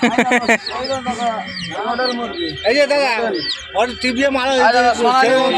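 Chickens cluck and squawk at Nabagram weekly haat market near Ghatal, loud close calls mixed with people talking nearby.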